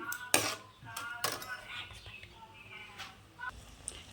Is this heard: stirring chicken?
yes